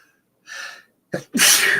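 A single sneeze: a short intake of breath, a sharp catch, then a loud explosive burst up close.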